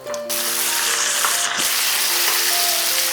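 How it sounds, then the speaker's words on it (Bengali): Chicken and lightly fried onions sizzle in a pan for a restaurant-style chicken curry, producing a steady, close, loud crackling hiss throughout with no talking. "এরপরে চিকেনটাকে আমি একটু হালকা লাল করে ভেজে নেব।"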